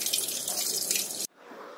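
Tap water gushes steadily into a kitchen sink while dishes are washed, then the flow cuts off abruptly, leaving faint dripping and room noise.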